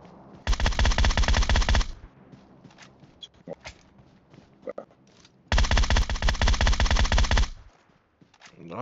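Two long bursts of rapid automatic gunfire from the mobile battle-royale game PUBG Mobile, each roughly one and a half seconds, loud and close, separated by quieter scattered clicks and shots.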